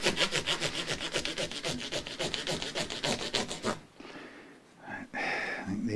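Rapid, rhythmic back-and-forth rubbing strokes, close and fairly loud, then a pause and a few slower, softer scrubbing passes, as micro mesh sands the finish of an Epiphone ES-339 guitar.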